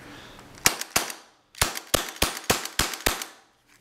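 Sharp, snappy shots from a KWC Smith & Wesson M&P 40 airsoft pistol pop one after another, two spaced shots followed by a quicker string of about six.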